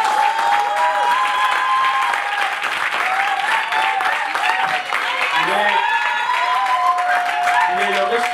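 A large audience at a French job forum gives a standing ovation, with dense, sustained applause and crowd noise filling the whole stretch, loud and steady, with a few voices and cheers mixed in.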